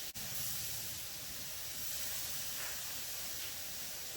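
Paneer sizzles on a hot pan, a steady, even hiss of frying that holds for several seconds, moderately close, with no talking.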